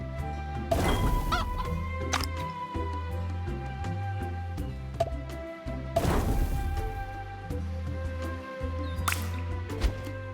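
Chickens cluck in the farming mobile game Family Farm Adventure, with short bright squawks over a looping cartoonish music bed, plus drippy pops and crashing game effects throughout, no talk.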